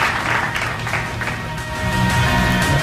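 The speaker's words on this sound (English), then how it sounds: "A round of applause to both speakers." Audience clapping at a school debate between St. Bridget's College and Holy Cross Secondary School, a moderately loud, uneven patter of hands that dips slightly midway and swells again toward the end.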